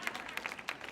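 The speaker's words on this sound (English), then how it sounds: "You can clap for that." Brief scattered clapping from a small audience at a live stage event, several distinct claps in an uneven rhythm, fairly faint and close.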